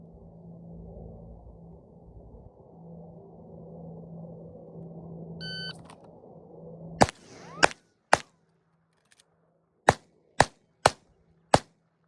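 Seven sharp handgun shots at a shooting drill ring out loud and close, a quick pair, a single, then a faster string of four, after several seconds of low rumbling ambient hum.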